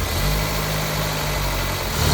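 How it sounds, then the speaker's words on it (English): A Mercedes CLA's engine idles steadily after an oil top-up during servicing, a close, even mechanical hum with no voices. "Let's run the car and circulate it a little bit."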